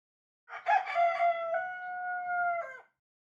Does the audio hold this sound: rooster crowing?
yes